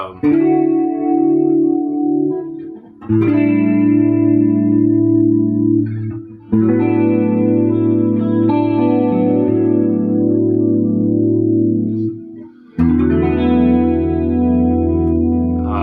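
Sustained, heavily processed electric guitar chords ring out with a thick, shimmering effects-laden tone, pausing briefly between phrases before swelling back in.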